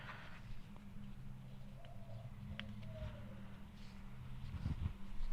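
Outdoors beside metalworking, a bird coos and calls softly a few times, faint over a steady low hum and light rustling.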